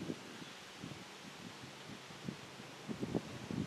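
Wind gusts around a homemade DIY windmill outdoors, a constant broad rushing and buffeting against the microphone with low rumbling puffs, no voices.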